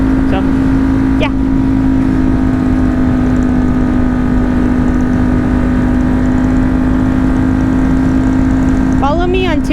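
A motorcycle engine drones steadily while riding behind a Harley, a constant close-up hum with a sustained tonal whine, rising briefly in pitch near the end as the rider accelerates.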